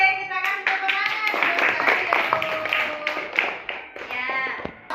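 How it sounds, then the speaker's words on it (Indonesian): A fourth-grade classroom claps together during a Qur'an and Hadith lesson, with sharp hand claps mixed among children's chanting voices close to the microphone. "kita kasih tepuk tangan"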